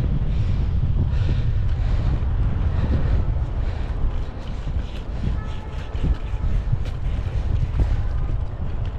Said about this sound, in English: it's windy as hell up here, especially in the spring.